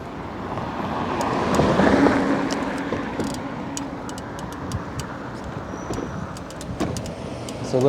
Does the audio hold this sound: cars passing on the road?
yes